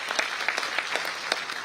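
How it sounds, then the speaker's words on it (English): Applause from an audience at a university event with recruiters present, a brief burst of steady clapping with sharp individual claps standing out, moderately loud and without talk. "Huge round of applause for Dharmen, sir."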